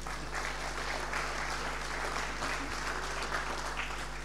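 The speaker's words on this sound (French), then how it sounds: "on va vous applaudir" An audience applauds steadily throughout, a dense even clatter of many hands at moderate loudness in an indoor hall over a low hum.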